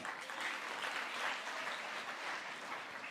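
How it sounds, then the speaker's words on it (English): Applause from a conference audience at the Guyana Energy Conference, a dense, steady clapping that fills the room at moderate level without a break, no voices standing out. "I need you to clap for that."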